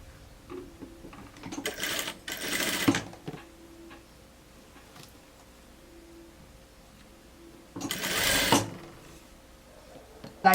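A sewing machine stitches a blouse seam in short bursts, a brief run of rapid mechanical whirring and later a second burst, with quiet pauses of fabric handling between them.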